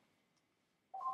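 Telephone keypad tones sound near the end, a short burst of bright dialing beeps after a near-silent stretch, heard when a phone call comes in during an accounting lecture.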